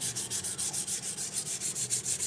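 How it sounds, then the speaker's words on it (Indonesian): Epoxy on an Ashley Pro 1 microphone is sanded by hand with 1000-grit sandpaper in quick, even back-and-forth strokes, a close, steady rasping rhythm with no voices. "Kita amplas bagian yang merasa tidak halus aja."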